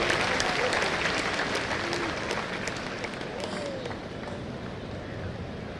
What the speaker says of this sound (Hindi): एक बार पुनः सभी दर्शकों से अनुरोध है कि मुख्य अतिथि महोदय का तालियों के साथ स्वागत करें।